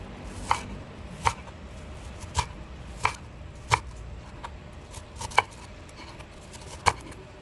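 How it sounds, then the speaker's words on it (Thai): Knife slicing through a whole onion on a cutting board, with eight crisp chops at a steady, unhurried pace, each a short sharp tap, fairly close and alone with no talking. "กลับมาก็มา ซอยหอมหัวใหญ่กันค่ะ"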